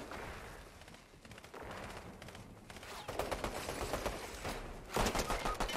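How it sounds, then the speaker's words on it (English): A squad shooter game sounds steady rapid gunfire, with dense crackling bursts and volleys that grow louder and heavier toward the end, and no clear talking. "Okay, I got shot from all the way over there."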